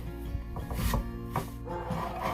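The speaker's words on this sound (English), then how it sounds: "I like to use a tack cloth to get all the sanding dust off" A tack cloth is wiped over sanded wood to lift the dust before staining, giving close, soft rubbing strokes with a dry, papery swish in a few uneven passes.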